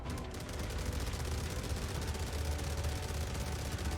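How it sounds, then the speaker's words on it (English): Laser and ballistic Gatling guns firing together on a Kruger Wolf ship in Star Citizen, a dense continuous rattle of rapid shots held at steady loudness throughout, with no voices. "the laser will be firing first, I think half a second or something, and then the ballistic Gatling gun will be shooting"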